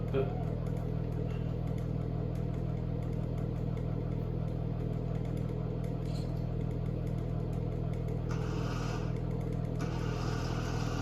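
A small electric motor in a Bedini SSG setup runs on direct charge with a steady, continuous hum and buzz, and a brief hiss of noise rises near the end.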